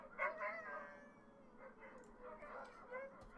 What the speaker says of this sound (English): The dogs are howling.